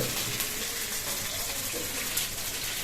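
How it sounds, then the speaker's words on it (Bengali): Spice water poured into a cooking pan, a continuous even gush of liquid at moderate level. "এখন আমরা দিয়ে দিচ্ছি সেই মশলাগুলার জল"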